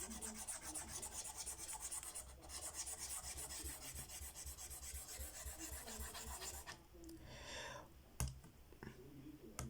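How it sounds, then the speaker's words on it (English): Steady, close rasping strokes of an eraser rubbing writing off a classroom board continue for several seconds, then break into a few scattered scrapes and knocks. "Right now, I just need to erase"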